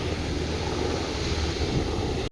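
Sea waves wash in at Porbandar beach, a continuous rushing surf with wind buffeting the microphone and a brief dip at the end.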